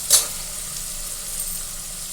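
Onions sautéing in a pan give off a soft, steady sizzle, starting with a brief brighter crackle and then settling into a low, even hiss with no one talking.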